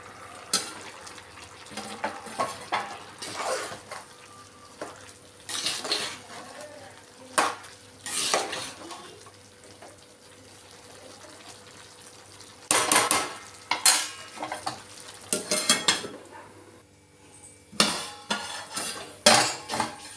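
A spoon stirs moong dal khichdi in a pot, giving irregular scraping and clinking bursts with pauses between, close and moderately loud over a faint kitchen background.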